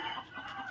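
Free-range village chickens clucking together on a farm in the morning, a busy overlapping chorus of hens at moderate distance, steady and continuous with no speech.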